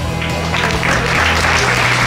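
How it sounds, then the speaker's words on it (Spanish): Crowd applause for the mayor at a welcome gathering, a dense sustained clatter of clapping lasting about two seconds, fairly loud and steady throughout with a low hum beneath. "Un aplauso,"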